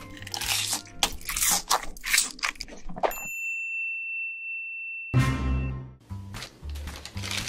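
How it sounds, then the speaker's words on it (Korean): Crunchy bites and chewing of a McDonald's meal of Big Mac, egg bulgogi and Shanghai burgers, chicken nuggets and cheese sticks, loud and close to the mic, then a bright chime and a short silence before more crunching. "오늘은 짜잔! 맥도날드 먹방."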